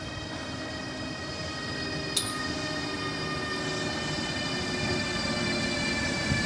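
A train rumbles through Grisignano di Zocco station, Italy, with a steady metallic drone and faint high tonal whine, plus one sharp click partway through.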